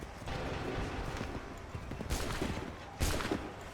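Musket volleys in Assassin's Creed III, two sharp broadband cracks of massed gunfire a second apart over a noisy battlefield rumble, with shouting voices underneath.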